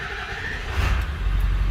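Ford 7.3 Powerstroke diesel engine, freshly fitted with a replacement ICP sensor and Hydra PHP, cranking and catching into a deep, steady low rumble that grows louder partway through.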